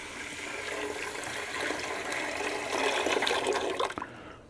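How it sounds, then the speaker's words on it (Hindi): One liter of water poured into sugar in a cooking pot in a Pakistani village kitchen, a steady rushing pour that swells and ends abruptly, close and fairly loud. "अब इसमें हमारा 1 लीटर पानी, एक डाले में 1 लीटर पानी जाता है, ये हमने इस चीनी में डाल दिया।"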